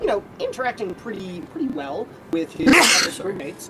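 A single loud, sharp sneeze bursts out near the end, right after someone talks steadily in a narration about a tabletop game crew.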